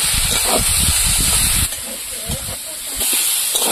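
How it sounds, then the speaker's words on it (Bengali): Vegetables for a banana and fish curry sizzle and hiss steadily while being sautéed with salt and turmeric in a pan, a continuous loud frying noise that eases slightly midway then swells again. "সবজিটা ভালো করে কষিয়ে নেব।"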